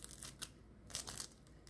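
Freshly baked crispy spinach rolled börek made from ready-made yufka pastry crackling and crunching as it is cut, a few sharp close bursts of brittle crackle separated by short pauses.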